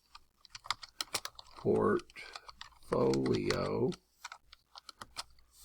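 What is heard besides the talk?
typing on a computer keyboard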